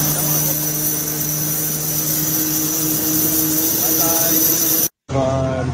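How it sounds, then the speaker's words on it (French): Airplane engines hum before takeoff, a loud, steady drone with sustained whining tones, a brief dropout near the end, and talking over it. "On s'apprête à prendre l'avion."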